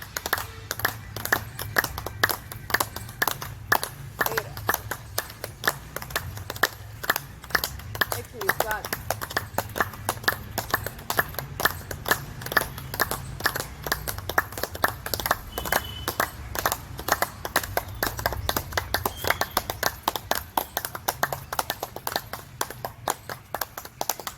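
Steady, rapid hand clapping from a group at an outdoor Rang Panchami colour celebration in a garden, with voices counting along throughout.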